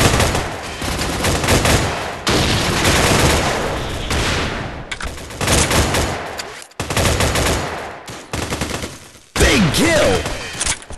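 Loud bursts of automatic gunfire and grenade blasts from the Android first-person shooter Tactical Warfare come in several dense volleys separated by short gaps, with a brief whistling effect near the end.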